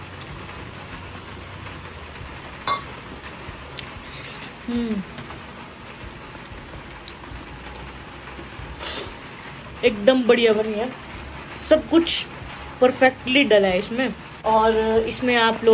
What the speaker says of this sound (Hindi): हमारे छत है ना तो इसमें बारिश की वो बूंदें बज रही ऊपर से